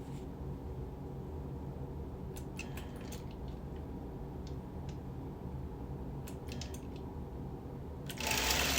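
A sewing machine quilts a quilt with steady, even whirring stitching that runs nearly the whole time, with a few light clicks and a brief louder rustle at the end.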